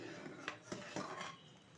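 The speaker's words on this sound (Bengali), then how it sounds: "এইবার আমি নেড়ে চেড়ে নেব বেশ কিছুক্ষণ সময় নিয়ে।" A spoon clinks and scrapes against a pressure cooker while payesh made with nolen gur is stirred, three or four distinct knocks over a quiet background.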